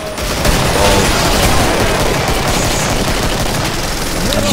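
Dense, sustained automatic gunfire from the Killing Floor Twisted Christmas multiplayer shooter, a loud continuous barrage of rapid shots with booming impacts and no voices.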